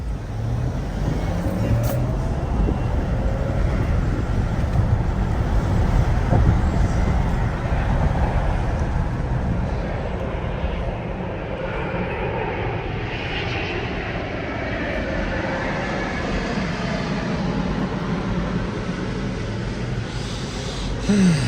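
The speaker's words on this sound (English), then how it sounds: "Traffic." Road traffic heard from inside a moving car near a mall: a steady broadband rumble of engines and tyres with a continuous, fairly loud wash of passing vehicles and no clear talk.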